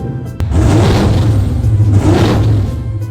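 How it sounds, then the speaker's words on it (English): A supercar's engine, restarted after repair work, runs loud and close with a deep rumbling roar. After a brief knock it swells and wavers for about three seconds, with no voices. "He started the engine again. You can hear it. It's up and running now."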